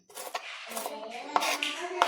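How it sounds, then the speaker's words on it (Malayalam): Raw mango being finely chopped with a knife for pickle: a few sharp, close knife strikes against a board, spaced irregularly over a soft kitchen background, with no talking. "ഇങ്ങനെ പൊടിയായിട്ട് അരിഞ്ഞെടുക്കണം."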